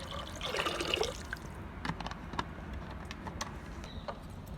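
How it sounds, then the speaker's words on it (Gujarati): Water is poured into a pot of lentils for dal, a short soft splashing fill at first that fades into quiet trickles and faint drips. "પોણા 4 ગ્લાસ પાણી ઉમેરી દેવાનું આમ।"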